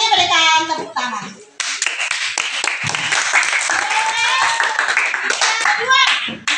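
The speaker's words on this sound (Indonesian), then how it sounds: "terima kasih untuk Sandi, berikan tepuk tangan" Elementary-school children in a classroom clap for a classmate, with a steady, dense round of hand claps running throughout and children's voices talking over it.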